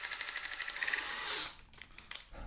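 A handheld power drill spins a bolt with magnets taped to either end for a homemade generator, giving a buzzing, pulsing whine for about a second and a half before it winds down, followed by a few clunks.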